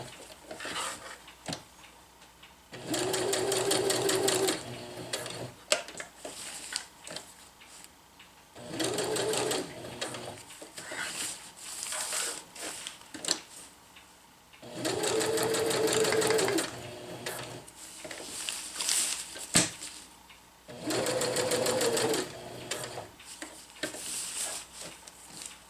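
A sewing machine stitches reinforcement X's into a tarp in four loud bursts of rapid whirring, separated by quieter pauses with handling noise and faint talk.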